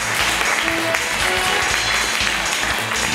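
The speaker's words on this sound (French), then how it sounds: "On l'applaudit." An audience claps in a steady, dense burst of applause that stays loud and even from start to finish.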